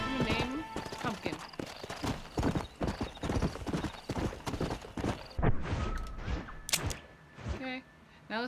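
Horse hooves clip-clop in steady, close rhythm in Red Dead Redemption, with a horse snorting and whinnying, while a player talks over the riding.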